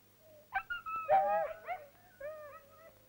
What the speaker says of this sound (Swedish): Tillsammans med en kamrat har jag i den här hundgården 35 hundar ungefär.